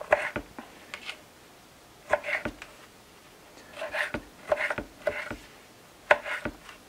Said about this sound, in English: And then we'll cut up our tomato.